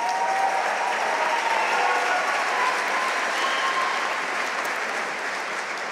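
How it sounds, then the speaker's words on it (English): Audience applause fills a graduation ceremony for business analytics and management master's students, a steady dense wash of clapping throughout, with a possible cowbell rattle mixed in but not clearly distinct. "you can clap and cowbell for that"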